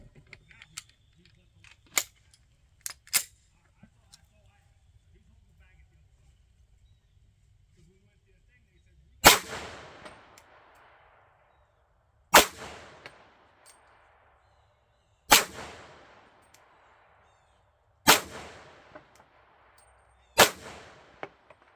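Glock pistol firing 1776 .40 S&W ammunition: five sharp, loud gunshots spaced about three seconds apart, each with a short decaying ring, after a stretch of faint clicks and handling noise.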